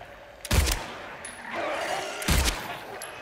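Gunfire in the survival horror game Silent Hill 2, two loud sharp shots about two seconds apart, each with a short ringing tail.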